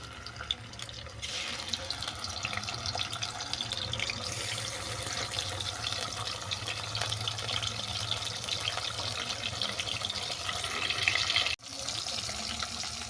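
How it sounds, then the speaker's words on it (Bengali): Hilsa fish fries in hot mustard oil with a steady, close hiss and crackle that holds evenly throughout, broken by one brief dip near the end. "তেল গরম হয়ে যাওয়ার পর মাছটাকে উল্টো পাল্টা বাদামি করে ভেজে নিচ্ছি"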